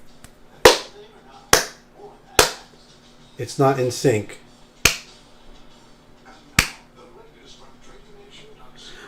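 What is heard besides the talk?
hand clapping to test audio sync on a live stream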